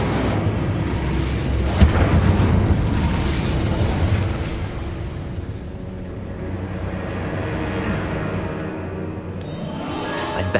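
Fire spell cast in the Hogwarts Legacy video game, a loud burst of roaring flame that fades into rumbling crackle over several seconds, ending with faint rustling.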